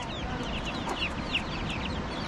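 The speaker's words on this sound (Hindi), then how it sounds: "मुर्गी फार्म है वहाँ, देखो कितने बच्चे हैं" Chickens at a poultry farm cluck and chatter continuously at moderate distance over a steady outdoor background, several birds calling at once.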